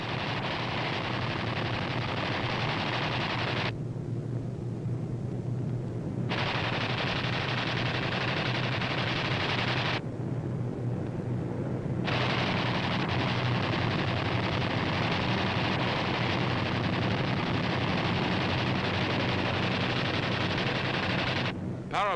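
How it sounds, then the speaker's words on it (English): Low-flying WWII B-25 bombers strafe with sustained, rapid machine-gun fire that rattles on loudly for long stretches, broken by a couple of brief pauses, over a dense, rumbling wartime roar. "These B-25s are carrying out low-level strafing operations against Jap surface vessels and a"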